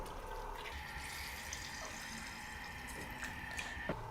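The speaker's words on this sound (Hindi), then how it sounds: "और अब मैं इसमें इतना पानी शामिल करूँगी कि गाजर इसमें डिप हो जाए।" Water pours steadily into a pot of peeled carrots, a soft, continuous splashing and trickling close by, with no talking over it.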